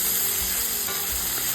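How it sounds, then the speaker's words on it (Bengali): Chopped onions frying in oil with green chillies, garlic, mustard seed and cumin, a loud steady hiss of sizzling close to the pan with faint stirring underneath. "দেখুন পেঁয়াজগুলো কীরকমভাবে ভাজা ভাজা হয়েছে"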